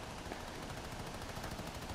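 Gunfire rattles in the video game Fortnite, rapid shots sounding distant and faint within a dense, even wash of background noise, with no clear gaps.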